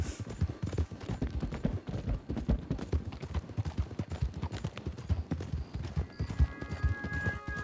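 Horse hooves clip-clopping at a steady, rapid rhythm in the video game Red Dead Online, faint and continuous, with some soft clatter and a brief tonal sound near the end.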